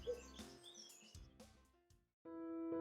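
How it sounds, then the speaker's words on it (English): Collared doves in a desert sanctuary in Dubai, heard as scattered soft calls and chirps amid quiet ambient sound, ending with a steadier tonal hum. "my only other visible companions were these collared doves"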